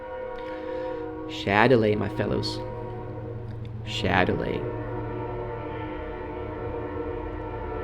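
Train horns in Minecraft sound as long, steady, layered tones that drone continuously underneath, while someone speaks briefly over them twice.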